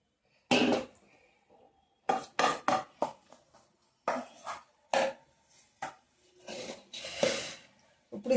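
A spoon scrapes and clanks against a pan while tamarind rice is stirred and mixed, giving sharp irregular knocks and scrapes with pauses between, close and fairly loud.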